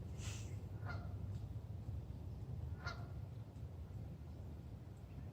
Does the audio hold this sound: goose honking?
yes